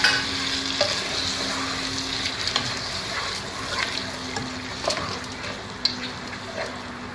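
Indian masala with finely chopped tomato sizzles steadily in a pan while a spoon stirs and scrapes, soft clinks and scrapes popping out over the continuous frying hiss.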